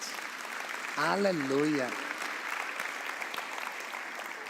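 A church congregation applauding, a steady wash of clapping from a crowd throughout, with a single voice calling out briefly over it.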